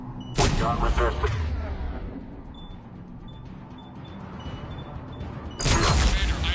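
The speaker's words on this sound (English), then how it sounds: "The cannon fire's clearing the way." Heavy cannon fire in the Mass Effect 3 video game: two loud booming blasts several seconds apart, each with a rumbling decay and a faint hum between them.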